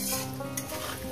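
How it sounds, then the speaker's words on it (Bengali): Potatoes frying in a pan give a brief, close, continuous crackling sizzle with light scraping, no voices. "আমি 3-4 মিনিট আলুটাকে ভেজে নিয়েছি"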